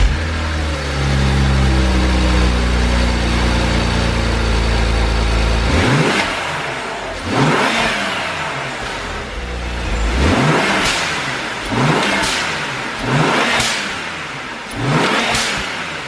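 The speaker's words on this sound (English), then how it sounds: "you're also adding this amazing sound from the timeout blow-off valve from Burger Tuning" A BMW N54 twin-turbo engine fitted with an upgraded Burger Tuning blow-off valve and charge pipe idles loudly, then revs in five or six sharp bursts, each followed by a hissing blow-off release.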